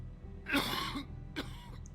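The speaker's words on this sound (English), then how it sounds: "Cough, cough." Two short coughs from a character in the video game The Wolf Among Us, the first a longer throaty burst and the second a brief one, fairly close over a low steady background hum.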